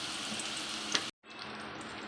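Onion and garlic fry in a pan for white sauce pasta, a dense, even sizzle close up, broken by one short clink and a brief gap of silence before the hiss resumes.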